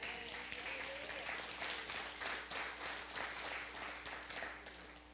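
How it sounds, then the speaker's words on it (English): Church congregation clapping for the Lord during a sermon, a steady dense wash of many hands that carries through the whole stretch at moderate level, with a faint voice or two murmuring underneath. "Somebody give the Lord a hand clap today."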